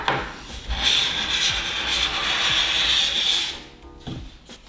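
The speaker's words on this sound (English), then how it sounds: "So let's get scraping." Scraping wax off a ski or snowboard base: one long, steady rasping stroke close by, preceded and followed by shorter scrapes and taps.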